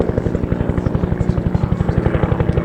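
A Huey helicopter's rotor thumps in a fast, steady rhythm at an air show display, loud and close, with the engine droning continuously underneath.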